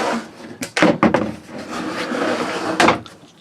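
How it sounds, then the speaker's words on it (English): A slide-out trash bin cupboard door in a sailboat galley under refit, hung on temporary hinges, bangs shut with several sharp wooden knocks and rattles close by, then a final thump after a stretch of steady background noise. "So this will be a slide out trash"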